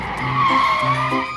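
A cartoon car in a children's animated show skids, giving a close, sustained squealing slide with wavering pitched tones over about a second and a half, with no speech.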